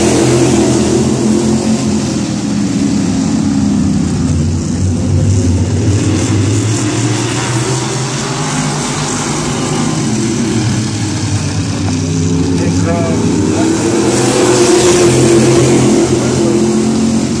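Modified race cars (E-mods) accelerate at the start of a heat race at Midvale Speedway, a dirt oval, with a loud, continuous roar of several engines that rises and falls as the pack goes by.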